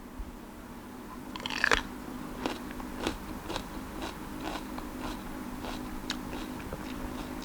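Crunchy bites into a fresh guava, a few sharp crisp snaps near the mic followed by softer chewing crackles, close and quiet with no talking.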